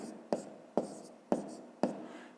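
Pen strokes on paper while numbers are written out for a fifth-grade maths exercise, four sharp scratchy strokes at a steady rhythm, close and quiet, with no talking.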